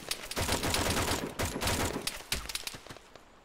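Machine gun fire in the video game Arma 3 comes from a distance in rapid rattling bursts, dense at first and thinning toward the end.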